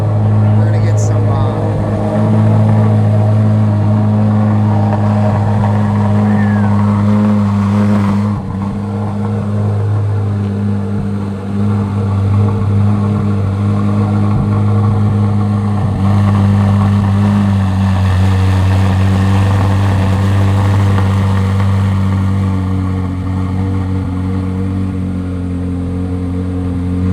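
A 2023 Corvette C8 Z06 engine fires up loud and close, settling into a deep, rumbling idle with repeated revs swelling and falling over nearly half a minute while people talk nearby.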